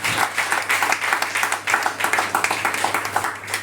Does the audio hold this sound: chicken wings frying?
no